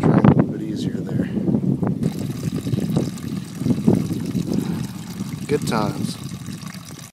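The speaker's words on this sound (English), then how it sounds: "after you're done draining your coolant" Coolant drains from the radiator of a seventh-generation Honda Civic, a steady trickling and splashing wash under a man's brief remark.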